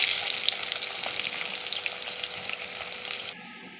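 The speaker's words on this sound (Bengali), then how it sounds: "এবার আমি পেঁয়াজ কুচি দেবো।" Chopped onions sizzle in hot oil in a kadai with bay leaves, dried red chillies and whole cumin for a chicken kasturi, a loud continuous crackling fry that cuts off just before the end.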